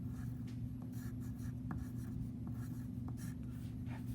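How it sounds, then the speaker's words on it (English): Handwriting on paper during a primary-school lesson, a steady soft scratching of pen strokes with small taps, close and continuous over a constant low hum, no talking. "So I'm going to write that."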